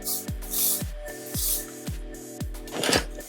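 Several short hissing bursts of hairspray in a loose rhythm, each a broad airy whoosh, with quiet thumps and rustling between them.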